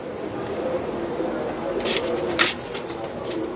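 Sturdy breeding pigeons coo softly in the background, a low, faint murmuring over a quiet room with a few sharper bird sounds and no clear talk.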